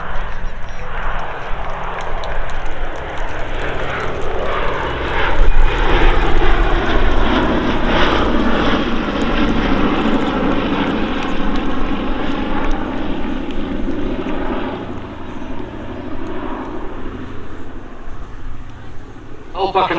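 A B-17 Flying Fortress bomber, Sally B, passes over an airshow at Old Buckenham, its piston engines droning loudly and steadily for about twenty seconds, swelling and fading slightly as it flies by.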